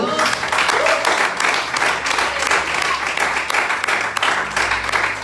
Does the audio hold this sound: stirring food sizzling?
no